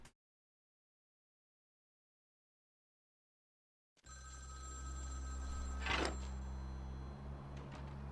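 A payphone rings in Vampire: The Masquerade – Bloodlines after a few seconds of silence: an electric bell tone over a low steady hum, with one brighter ring burst near the middle, fairly quiet.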